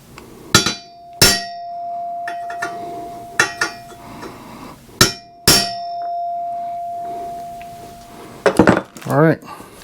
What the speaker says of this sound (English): I'm going to take a center punch